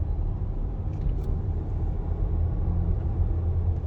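A VW Golf R MK8 with a six-speed manual cruising in third gear at around 25 mph and 2,000 rpm, a low, steady engine drone and road rumble heard from inside the cabin.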